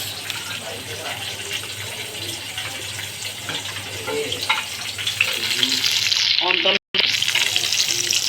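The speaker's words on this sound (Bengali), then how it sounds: "এখানে পাউরুটি ঘিয়ে ভেজে নিচ্ছে একটা ডেজার্ট করবে" Slices of bread frying in ghee give a steady hissing sizzle throughout, with people talking over it nearby.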